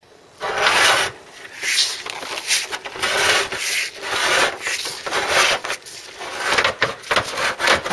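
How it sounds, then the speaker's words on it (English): A blue tube is pushed into the chassis leg of a Ford Cortina Mk3 under restoration, giving bursts of close, rasping scraping and rubbing that come and go over several seconds. "I'm going to put this blue tube now into the other chassis leg"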